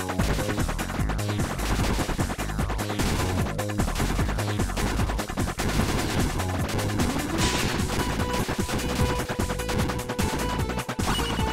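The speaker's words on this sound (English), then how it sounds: "Shoot the targets!" Rapid shooting at targets in the video game Knuckle Sandwich, a dense, loud, continuous stream of gunshots with crashes and hits layered over game music, no talk.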